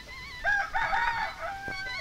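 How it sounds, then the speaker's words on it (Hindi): A rooster crows once, a clear close call rising and falling over quiet background, with a faint thump near the end. "मुर्गा मुर्गी"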